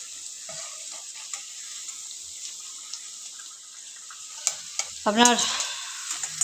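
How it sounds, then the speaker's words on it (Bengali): Fuchka nimki deep-frying in oil until crisp, a steady hiss with scattered pops and clinks, ending in a short splashing burst near the end; a voice speaks briefly. "একদম কড়া করে ভাজবেন, লালচে লালচে করে কড়া করে ভাজবেন"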